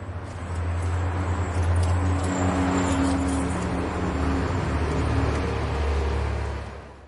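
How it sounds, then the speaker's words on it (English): A pickup truck drives past at steady speed, its engine hum and road noise holding for several seconds before fading out, with no voices. "Pickup truck."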